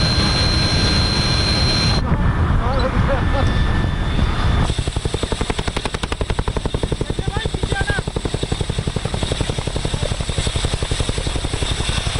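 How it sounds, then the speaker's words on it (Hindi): Indian Air Force Apache helicopter readied for night operations at a forward airbase, a loud rotor thump with a rapid, steady chopping rhythm that takes over after a few seconds of mixed engine noise, heard up close. "इस फॉरवर्ड एयर बेस से वायुसेना का अपाचे हेलीकॉप्टर नाइट ऑपरेशन के लिए तैयार हो रहा है।"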